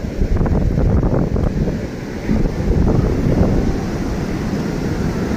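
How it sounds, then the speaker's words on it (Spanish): Sea waves and gusting wind at Playa Bonfil beach form a steady, loud rush, with heavy wind buffeting on the microphone and no talking. "Pues yo veo el mar más tranquilo"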